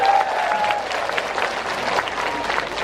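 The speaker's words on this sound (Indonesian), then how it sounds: "Tepuk tangan." Audience applause at a large open house gathering, a steady, moderately quiet patter of many hands clapping that holds throughout.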